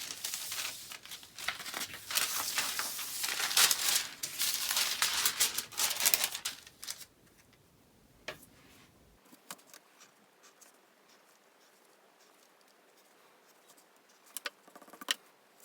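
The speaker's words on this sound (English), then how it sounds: "And to finish, I'll cut out the pattern piece." Scissors cutting out a paper sleeve pattern piece with a pleated head, a dense run of crisp snipping and paper rustle for several seconds, then scattered faint clicks and handling noises.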